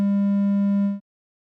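A synthesized triangle wave tone holds one steady, loud, pure-sounding pitch for about a second, then cuts off abruptly into silence.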